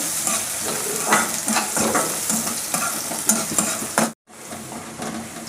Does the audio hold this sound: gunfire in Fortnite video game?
no